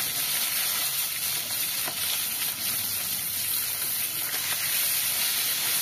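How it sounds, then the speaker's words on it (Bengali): Small finger-sized lata fish sizzle loudly in plenty of hot oil in a wok, a steady, dense hiss with occasional crackles and no talking. "এবার মাছগুলো তেলের ওপরে দিয়ে দিচ্ছি"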